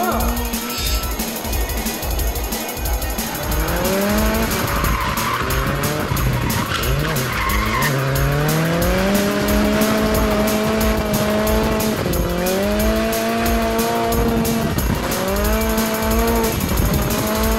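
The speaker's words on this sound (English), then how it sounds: "It's drift like you've never seen it. On car, in car, under car." Drift cars slide sideways with long, wavering tire squeals over loud revving engines, an intense, continuous mix of screeching and engine roar at a drifting event, with a commentator talking over it.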